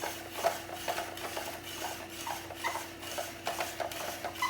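Cucumber fed through a spiralizer machine that cuts it into noodles and removes the seeds, giving a steady rasping, rubbing scrape with small irregular clicks, close and moderately quiet.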